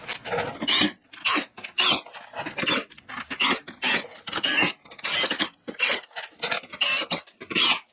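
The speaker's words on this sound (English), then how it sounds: "go ahead and tighten up all of these bolts" Bolts on a BMW oil level sensor are tightened with a rasping ratchet in quick repeated bursts, close up and fairly loud, with no talking.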